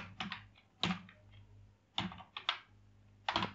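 Code is typed on a computer keyboard in quick bursts of close, crisp key clicks, with short pauses between the flurries.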